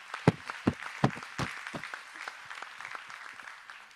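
Audience members at a bank's annual general meeting applaud, with several loud, distinct claps up close at first, then a softer, scattered patter of clapping that tapers off.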